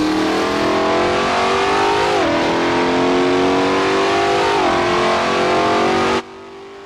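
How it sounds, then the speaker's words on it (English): A Ford GT40 GT1 Matech race car in Assetto Corsa roars loudly and continuously, its engine note climbing under acceleration with brief dips at gear changes before cutting off abruptly near the end. "you'll hear only two sounds, the motor and a clunk when changing gears"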